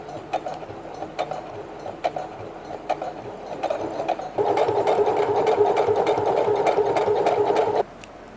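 A home sewing machine runs while stitching Christmas gifts, first in short irregular stretches of whirring and then in one steady, louder continuous run that cuts off abruptly, with no talking.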